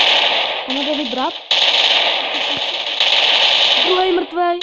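Rapid bursts of gunfire in the video game Free Fire crackle throughout, dense and loud, with brief voices talking over the shooting.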